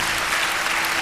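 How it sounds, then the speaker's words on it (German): Studio audience applause at a German television game show, a steady dense wash of clapping hands filling the whole short stretch at moderate loudness. "Aber hier gibt es im Studio schon Applaus für Oku"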